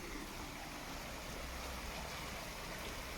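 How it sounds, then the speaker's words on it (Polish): Steady rushing water noise from a small waterfall in Schöllkrippen, Bavaria, fills the whole clip, a constant broadband hiss, moderately close, with no voices. "O, mały wodospadzik jest."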